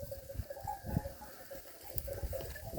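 Sheep bleat faintly among a scattered flock, with soft rustling and low background noise outdoors.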